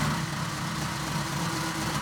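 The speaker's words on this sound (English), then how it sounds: "it's essentially a buzz roll. We're trying to make one long continuous sound" A dense, continuous concert-style snare buzz roll on a mesh practice pad, an even hiss-like rattle with no gaps, played close and held steady throughout.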